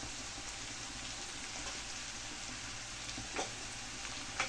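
Spices, turmeric and chili powder among them, sauté in a pan for a horse gram curry, giving a soft, steady sizzle. Faint scrapes of stirring come through near the end.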